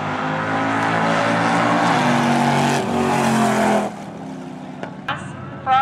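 Drag racing cars roar loudly down the strip at Coles County Dragway in one long, sustained engine blast that cuts off sharply near the end, leaving short faint noises.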